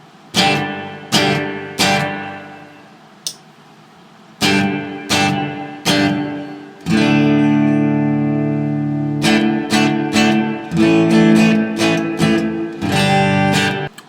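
An electric guitar plays chords and single notes through a 1970s solid-state electronic plate reverb pedal, each strike loud and followed by a smooth decaying reverb tail, with no voices.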